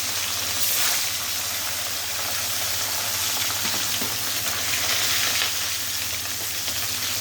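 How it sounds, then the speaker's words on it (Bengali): Fish fry in hot oil with a loud, steady sizzle and spatter that continues evenly throughout, with no talking. "বাকি যে মাছগুলো ছিল ওই তেলের ভিতরেই আমি বাকি মাছগুলো ভেজে নেব"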